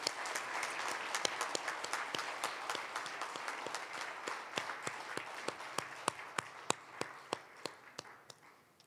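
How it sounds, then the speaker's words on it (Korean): An audience at a national prayer breakfast claps steadily throughout, a dense even wash of many hands with individual sharp claps standing out near the microphone, no talking over it. "다시 한번 큰 박수 부탁드립니다."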